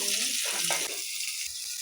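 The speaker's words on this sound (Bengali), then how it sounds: "একটু ভেজে নেব আলু আর কাঁচা লঙ্কাটা" Potatoes and green chillies frying in oil in a pan give a brief, close, steady hiss and crackle, with faint stirring underneath.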